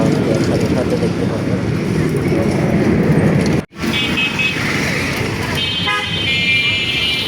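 Road traffic with vehicles and rickshaws passing, a loud, continuous rumble of engines with a brief drop in the middle, then a short horn toot, while a person talks over it.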